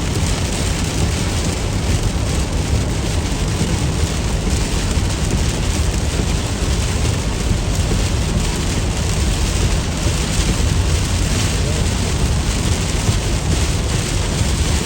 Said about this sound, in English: Why this storm gotta be here?